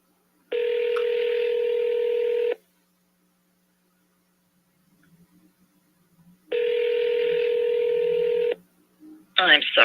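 Two long steady telephone ringback tones, each about two seconds, separated by a quiet gap, sound clearly on a phone line before a voice begins at the end.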